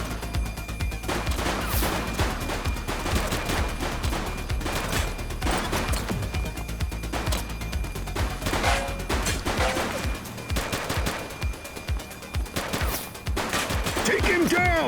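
Sustained rapid gunfire in the police video game The Precinct on PS5, with dense bursts of loud shots continuing throughout and voices calling out in between.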